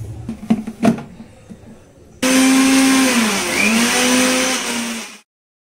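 A kitchen blender grinds boiled tomatoes for juice, starting abruptly with a loud, steady whirring whine that dips and recovers in pitch for about three seconds before stopping, after some faint clatter.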